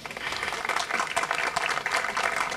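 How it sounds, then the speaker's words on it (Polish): Crowd applauding at an outdoor sports walk-of-fame star ceremony in Kraśnik, a dense flutter of many hands clapping at moderate distance, steady throughout. "To jest moment na brawa."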